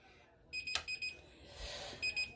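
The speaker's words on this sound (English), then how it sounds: "Well, that's the timer." A kitchen timer goes off with short, high, repeated beeps in two clusters against a quiet kitchen background where cauliflower wraps are being made.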